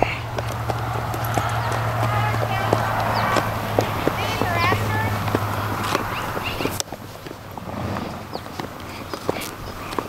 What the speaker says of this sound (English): This is my horse, George.